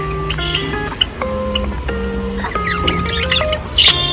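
Small birds chirp and tweet close by near a large Shiva temple in Howrah district, with scattered short calls and brief whistled notes over a faint background hum.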